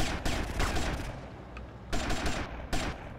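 Gunfire in GTA: Vice City, several loud bursts of rapid shots with short pauses between them, close and dominant with no voices over them.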